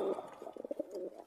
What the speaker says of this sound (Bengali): এটি হচ্ছে স্বর্ণ পায়রা